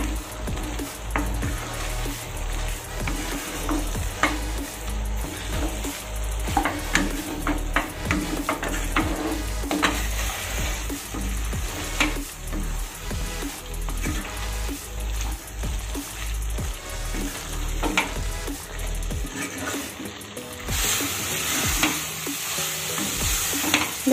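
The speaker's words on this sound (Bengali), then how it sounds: "এবার সোয়াবিনের সঙ্গে মশলাগুলোকে ভালো করে মিশিয়ে দেব, তারপরে একটু কষিয়ে নেব।" Fried soybean chunks are stirred with spices in a sizzling pan, with repeated scraping and clattering strokes of a spoon over a continuous close frying hiss.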